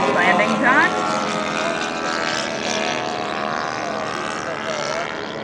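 A B-25 Mitchell bomber at an air show after landing, its piston propeller engines giving a loud, steady droning rumble, with a commentator talking over it.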